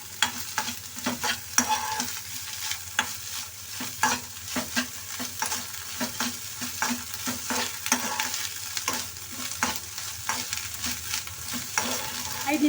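Egg bhurji sizzling in a hot pan while a spoon repeatedly presses and scrapes it, giving a steady stream of close, loud clicks and scrapes over continuous frying hiss.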